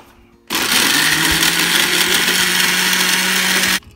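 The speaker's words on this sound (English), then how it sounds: "Sekarang kita blender ya." A kitchen blender whirs on abruptly, running loud and steady for about three seconds with a harsh broadband roar and a low hum, then cuts off into near silence.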